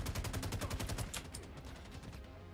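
Rapid bursts of automatic gunfire from a multiplayer online game, a fast run of repeated shots that fills the first second or so, then thins into scattered loud pops and clatter. No voices are heard.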